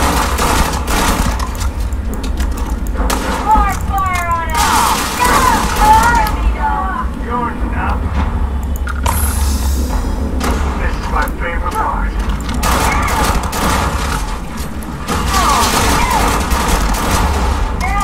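Gunfire in the sci-fi game Starfield: bursts of rapid automatic shots and mechanical weapon clatter in combat, loud and repeated, mixed with game sounds and a player's voice talking over much of it.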